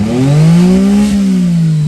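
A Mitsubishi mini truck's small engine revs up loudly and holds a high droning pitch before easing slightly, close to the microphone.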